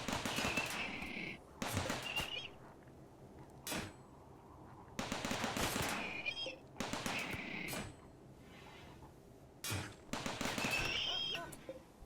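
Turrets in Rimworld fire at attacking mechanoids in repeated loud bursts of rapid gunfire, each lasting a second or two, separated by short quieter gaps with distant impacts.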